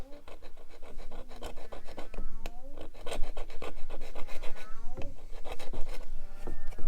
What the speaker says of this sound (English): it's kind of scraping the surface of this rod off, isn't it?